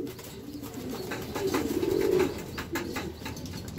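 Racing pigeons at a loft during summer race training give a low, rolling coo that swells in the middle, heard against steady outdoor background noise with no talking.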